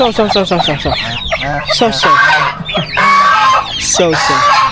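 Several chickens cluck and squawk close by in a busy, overlapping flurry of calls, with a brief voice mixed in.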